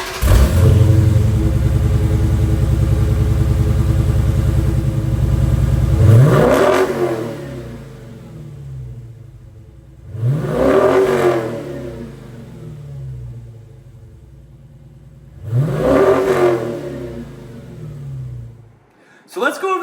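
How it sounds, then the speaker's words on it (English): A Dodge Challenger on its stock exhaust idles with a steady deep rumble, then three sharp revs that climb and fall back, each rev separated by a short pause at idle, close and loud. "here's a sound clip of what the stock exhaust sounds like."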